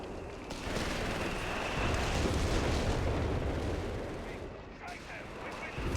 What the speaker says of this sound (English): this artillery, man, this constant bombardment here